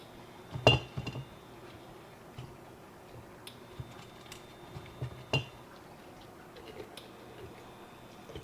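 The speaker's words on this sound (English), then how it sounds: "I'm just going to pack in those last couple bits that are in the bowl here." Pickled hot peppers being packed into glass jars: a few sharp glass clinks and taps, one louder clink early and another midway, with soft handling sounds between in a quiet kitchen.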